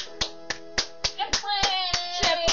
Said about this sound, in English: Clap for the jet plane.